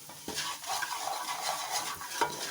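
Browned onions roasting in a pan with salt, chilli and turmeric for karhi pakora, with a spoon scraping and stirring rhythmically against the pan over a soft sizzle, close and alone.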